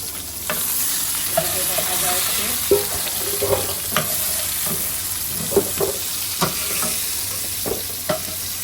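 Potatoes and pointed gourd frying in oil with a steady sizzle, broken by recurring scrapes and knocks of a spatula stirring the pan, close and moderately loud, with no talking.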